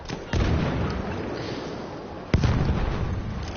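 Bomb explosions in Battlefield 1: two heavy booming blasts, the second sharper and louder, each followed by a dense rumbling roar, with a voice faintly under the noise.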